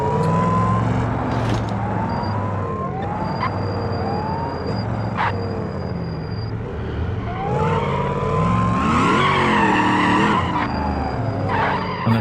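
Tires squeal in long, wavering streaks as a car drifts and slides through a BeamNG driving game, with a continuous engine drone underneath and loud, sustained skids throughout.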